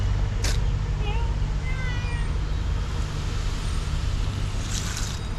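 A cat meows a few times on a street in Taipa, Macau, its short calls rising over steady low traffic rumble, with a faint voice nearby.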